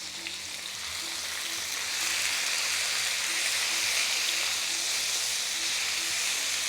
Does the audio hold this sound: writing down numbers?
no